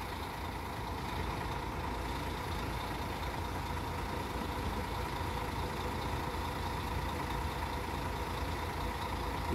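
At Brasília's interstate bus station, an intercity bus's diesel engine drones in a constant, close, low rumble, unbroken by voices for nearly ten seconds.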